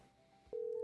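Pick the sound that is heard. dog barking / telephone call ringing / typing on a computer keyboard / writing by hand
telephone call ringing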